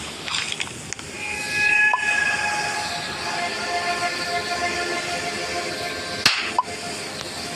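A train in the Roblox game Dead Rails rolls along with a continuous mechanical rumble, a faint horn-like tone and occasional sharp clanks, loud and close with no talking.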